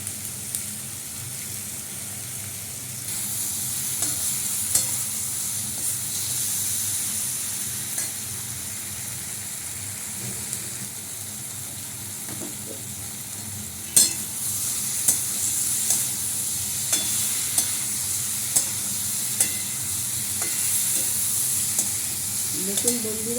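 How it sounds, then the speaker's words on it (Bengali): Spice masala sizzles and fries in a pan while being stirred, a constant hiss with repeated scrape and clack of a spoon against the pan, close and without talk. "মশলা যত ভালো কষানো হবে তত খেতে ভালো হবে।"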